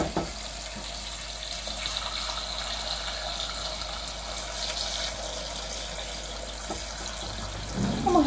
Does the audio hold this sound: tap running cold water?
yes